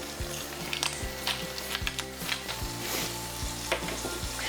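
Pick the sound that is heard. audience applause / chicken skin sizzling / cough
chicken skin sizzling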